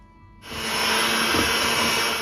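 An electric hand mixer starts up after a short quiet moment and runs steadily and loudly, beating softened cream cheese with powdered sugar in a bowl for a cherry spumoni pie.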